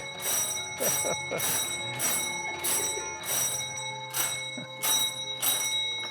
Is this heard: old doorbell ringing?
yes